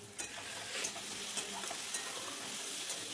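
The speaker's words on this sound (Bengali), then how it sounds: "বারে বারে নেড়ে দিচ্ছি, নাহলে নিচে লেগে যাবে।" Spice masala for a paneer, cauliflower and potato curry fries in oil as it is stirred, a steady close sizzle punctuated by light scraping strokes of the spoon.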